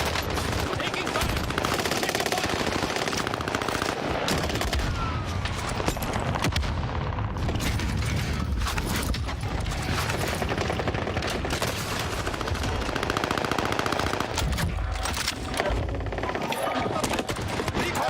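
Machine gun fire in Call of Duty Warzone, a battle royale video game: sustained loud bursts of automatic gunfire with layered shots and booms, continuous throughout, with a brief shouted voice over the din.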